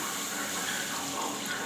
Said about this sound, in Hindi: इसमें हम शामिल करेंगे पानी